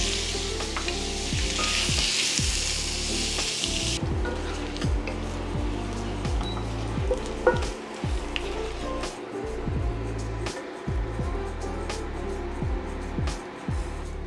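Bacon strips sizzle and crackle loudly in a hot pan throughout, with steady frying hiss and a run of repeated sharp pops and spatters as the meat is stirred for a meat lovers pizza.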